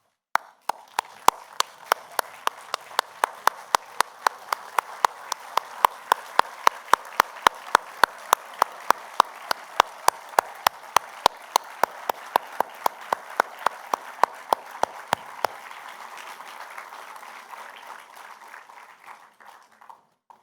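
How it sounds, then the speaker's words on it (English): Audience applause for the Class of 2023 at a school graduation ceremony in a hall, with sharp loud claps standing out through a dense steady wash of clapping that fades slightly toward the end. "can we please stand and applaud the class of"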